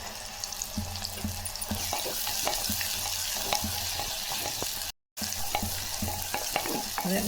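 Handfuls of onion and garlic sautéed in a clay pot: a steady, fairly quiet sizzle with repeated stirring scrapes and a brief silent gap near the end, no voices.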